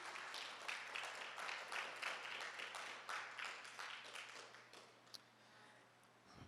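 A church congregation applauds, a steady spread of clapping that gradually thins and fades toward the end.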